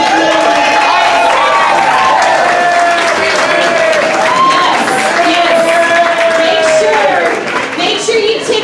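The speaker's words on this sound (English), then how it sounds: "Please give these hardworking staff a big round of applause." A big, loud crowd gives a sustained round of applause and cheering for the hardworking venue staff at a progressive awards event, dense and steady throughout, with voices mixed into the noise.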